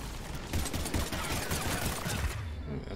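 Rapid gunfire with disruptor ammo in the Mass Effect: Legendary Edition shooter, a dense sustained burst of shots rattling continuously for several seconds against marauder enemies.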